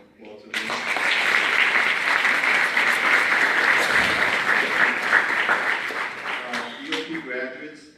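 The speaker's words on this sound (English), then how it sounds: "can you please give a hand of applause to them?" Sustained applause from an audience at a graduation ceremony, a dense wash of clapping that swells quickly and holds for several seconds before thinning out near the end.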